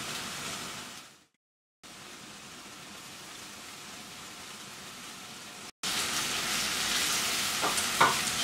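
Chopped onions frying in olive oil for a sweet potato leaf (matembele) dish give off a steady, close broadband sizzle. It breaks off briefly near the start, resumes, then grows a little louder toward the end with a few faint clinks.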